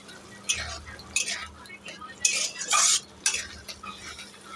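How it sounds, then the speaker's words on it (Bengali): Spoon scraping and stirring chicken with green chillies and Kashmiri chilli powder in a pan as it cooks down in oil, several uneven clinks and scrapes at close range over a low steady hum. "দিয়ে ভালো করে কষিয়ে কষিয়ে আমি চিকেনটা সেদ্ধ করে নেব"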